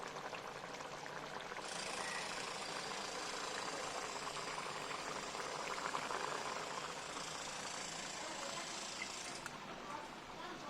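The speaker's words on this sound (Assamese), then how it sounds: "আনফালে মাছখিনিও উতলি আছে" A pot of taro and elephant apple fish curry boils steadily, a constant bubbling hiss that carries on unbroken for the whole stretch.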